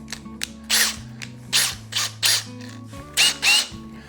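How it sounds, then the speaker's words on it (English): A power drill whirs in short bursts, boring a hole in a cap, stopping and starting several times with low motor hum and gritty bursts as the bit bites. "that's what we'll use to drill our cap"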